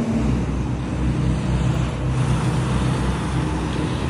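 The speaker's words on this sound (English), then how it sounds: "the traffic is just going on the road" Steady road traffic going by on a clear summer day in Ottawa, Canada, a continuous low rumble of cars and heavier vehicles at moderate distance with no voices.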